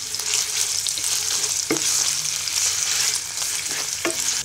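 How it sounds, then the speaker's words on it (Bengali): Marinated chicken pieces frying in hot soybean oil in a pan give a loud, continuous sizzle, with a couple of sharp utensil scrapes from stirring partway through. "এবার চিকেনটাকে ভালো করে ভেজে নিব।"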